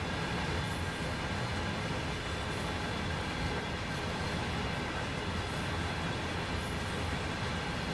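A freight train with a caboose rolls past in Train Sim World 3, a steady, dense rumble of wheels and cars holding at an even level throughout, with faint high squeals on top.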